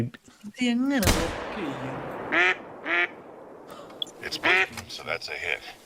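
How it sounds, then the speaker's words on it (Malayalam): Several short nasal quacks from a flock of ducks come in bursts during a hunting outing, mixed with people talking and one sharp, loud bang early on. "ഒരു താറാവ് കൂട്ടൻ അവിടെ ഇരിപ്പുണ്ട്"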